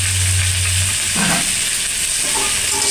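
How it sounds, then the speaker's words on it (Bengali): Spices and tomato fry in a pan with elephant foot yam for a fish curry, producing a loud, continuous sizzling hiss that stays steady and close throughout. "এই লাল লাল করে ভাজা হয়ে যাবে,"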